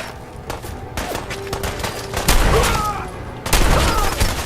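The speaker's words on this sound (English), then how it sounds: "So let's bust out the powerful shotgun" A shotgun fires in the game Fallout 4, with loud dense bursts of blasts and rattling impacts that swell and surge twice, mixed with game noise.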